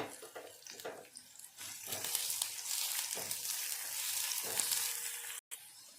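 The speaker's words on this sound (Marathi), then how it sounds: "कांदा हा छानपैकी सोनेरी कलर येईपर्यंत आपण इथे भाजून घेते तेलामध्ये" Onion frying in oil in a pan, a steady broad sizzle running almost throughout with brief stirring scrapes, cutting out for a moment near the end before resuming.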